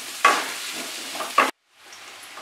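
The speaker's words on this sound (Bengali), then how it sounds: "ফ্লেমটাকে আমি বাড়িয়ে নিয়েছি, নিয়ে আলু আর পেঁপেটাকে আমি ফ্রাই করব।" Potato and papaya frying over a high flame for a Bengali aloo-pepe dalna, with a hissing sizzle and two sharp spatula scrapes, then a brief cut and a quieter sizzle, close up.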